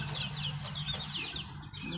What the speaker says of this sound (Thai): โอ้ไก่เต็มเลย